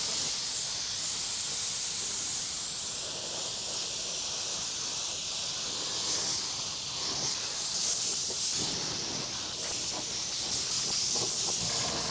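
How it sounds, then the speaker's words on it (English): Compressed air from a paint gun blasts a steady, loud hiss over an El Camino dashboard to clear dust before spraying paint in a backyard, continuous throughout with slight surges. "All right, just quick blow down in case anything landed in it, any dust."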